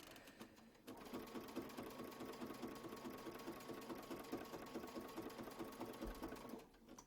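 A sewing machine stitches a quilt block around a circular template, starting after a brief pause and running in a fast, even mechanical rattle, close up, before stopping near the end.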